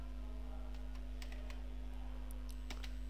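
Keys on a computer keyboard tap in a few sparse, quick clicks while text is entered in a spreadsheet, faint and close over a steady low electrical hum.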